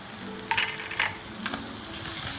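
Ginger and garlic frying in a pan of hot oil for dal tadka, a soft steady sizzle with a few brief stirring scrapes, close and moderately quiet with no talking.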